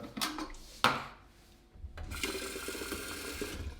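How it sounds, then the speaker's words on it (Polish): Tap water runs into a pot to be boiled in a home kitchen, a steady close splashing flow that starts after a couple of clunks from handling the pot. "Najpierw zagotujemy wodę."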